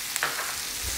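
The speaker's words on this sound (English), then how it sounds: "Melt that butter." Three tablespoons of butter melting in the center of a pan over medium heat, a soft, steady sizzle with faint stirring scrapes, quiet and close, no talking.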